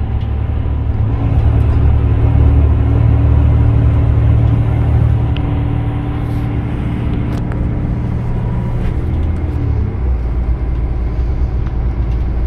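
Bonluck rail replacement bus in South East Queensland, a steady loud engine rumble and drivetrain whir heard close from on board, continuous throughout with slight changes in pitch and no talk.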